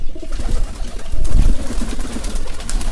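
Many pigeons coo together inside a pigeon house in the morning, a dense, close, low murmuring with wing rustles and shuffling throughout, no speech.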